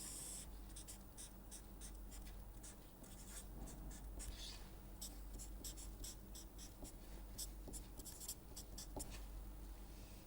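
A hand sketching a function plot, with pen strokes scratching across paper in short repeated bursts, close and quiet, and no talking.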